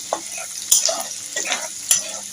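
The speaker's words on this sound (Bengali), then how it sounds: "এবার এইগুলোকে হালকা ভেজে নেব।" Chicken pieces are lightly fried for chilli chicken, with a continuous close sizzle in the pan and repeated scraping stirs and a couple of sharper spatula knocks.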